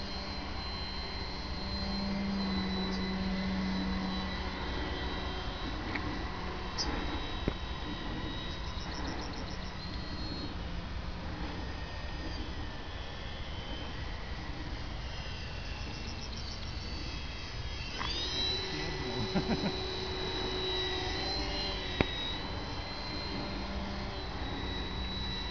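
A small model engine on an R.A.F. S.E.5a scale model biplane at a model airfield drones steadily through a landing approach, a continuous buzzing whine at moderate distance with slight pitch shifts and faint insect chirps in the background.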